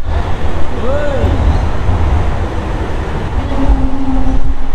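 A Singapore MRT train rumbles steadily along, a loud continuous roar with a brief tonal whine, and faint voices underneath.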